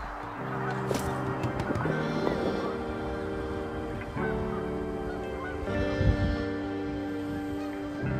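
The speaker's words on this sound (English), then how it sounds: "The sound of Canadian geese talking to each other as they fly overhead" Canada geese honk overhead in flight above a river and canal, a flock trading repeated nasal calls that overlap and come in loose bursts throughout, moderately close, with a faint murmur of other sound beneath.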